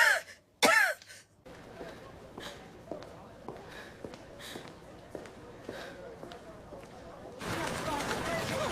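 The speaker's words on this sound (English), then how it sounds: "Mama, please stop coughing." A woman coughs and clears her throat hard a couple of times up close, then quieter shuffling and breathing sounds follow, with a voice at the end.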